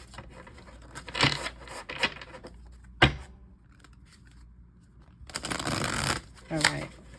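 A deck of cards is shuffled in a few quick riffling bursts, close and fairly quiet, with brief pauses and soft handling sounds between them.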